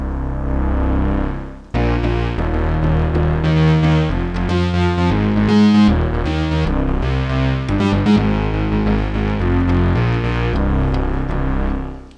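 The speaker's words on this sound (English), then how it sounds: "there's your classic pulse width modulated bass sound, one oscillator fixed, one oscillator modulating" A thick, buzzy pulse-width-modulated bass from a Moog Sub Phatty synthesizer, one oscillator fixed and one modulating, plays a series of sustained, shifting notes with a wavering, phasey character, loud and continuous with no voices.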